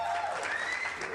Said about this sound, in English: I want to hit the applause